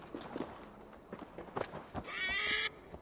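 A horse whinnies in the video game Assassin's Creed Valhalla, a short rising neigh over scattered hoof clops and rustling, fairly quiet overall.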